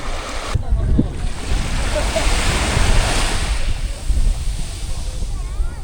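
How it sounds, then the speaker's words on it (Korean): Strong surf pounds the shore at Yeongjin Beach on Korea's east coast, a loud continuous roar of breaking waves with gusts of wind buffeting the microphone throughout. "파도가 너무 세서"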